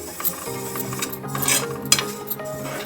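Popu (tempering) sizzles in a pan for pulihora, tamarind rice, with a steady hiss under scraping and clinking as a utensil stirs, over a faint sustained tonal hum.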